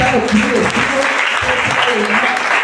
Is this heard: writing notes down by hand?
no